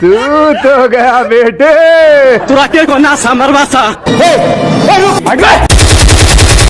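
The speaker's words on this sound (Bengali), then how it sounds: "এই বলদে পপাইকে গুলি করে পপাইয়ের গার্লফ্রেন্ড নিয়ে দিছে দৌড়।" Gunfire in a Popeye cartoon: a rapid, loud burst of machine-gun-like shots closes the clip after a stretch of exaggerated cartoon voices talking.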